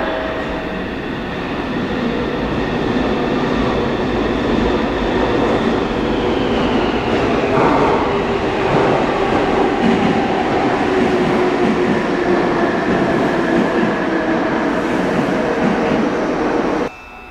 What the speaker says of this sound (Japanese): 電車は6両で参りますが、前の2両はご覧いただけませんのでご注意ください